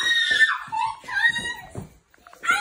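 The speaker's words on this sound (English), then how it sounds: "I hear screaming, but I don't see him." A child screams and shrieks excitedly indoors at Christmas, loud, high-pitched cries mixed with other voices and a brief lull before more yelling.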